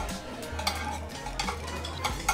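Fried rice being stirred on a hot pan: repeated scraping and clinking of a utensil against the metal in a steady rhythm, with a low sizzle underneath, close by.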